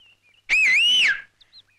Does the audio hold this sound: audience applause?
no